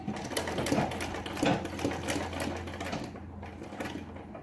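A sewing machine runs in quick, rattling bursts while stitching a kurti, the fast mechanical needle chatter close and fairly loud, with brief pauses between runs.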